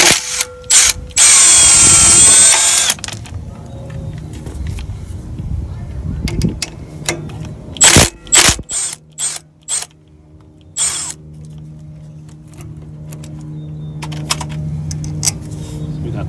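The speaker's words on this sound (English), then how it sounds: "we're going to be removing our top and our bottom brake caliper pin bolts off" A ratchet and power tool remove the 13 mm top and bottom rear brake caliper pin bolts on a 2013 Jeep Wrangler Sport, with a sustained whirring burst followed by clicking ratchet strokes and metallic clanks nearby.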